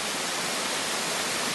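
Suh waterfall pours in a steady, broadband rush heard from a little below its three tiers, a constant wash of falling water with no voices over it.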